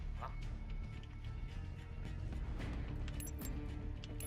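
A dog barking and yipping in Call of Duty Black Ops 4 during a team deathmatch, with several sharp barks amid constant game noise and occasional crashes, heard moderately loud rather than close.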